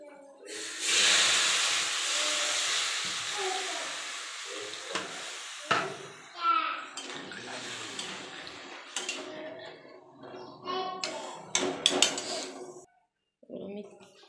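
Water poured into a hot frying pan of reddish, fried ingredients bursts into a loud, steady steam hiss that fades over several seconds, followed by scattered pan clinks and scraping stirs.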